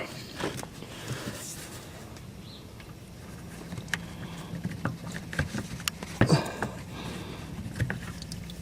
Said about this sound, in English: Get your oil pan ready and in position. And get ready for some splatter.